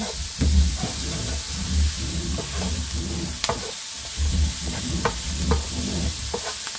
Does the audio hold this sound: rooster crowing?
no